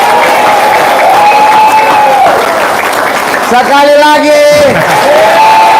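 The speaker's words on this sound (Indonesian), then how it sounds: "Tepuk tangannya kurang kencang." A crowd claps steadily at an Indonesian religious talk with songs while a voice speaks and sings over the continuous applause, which swells again partway through.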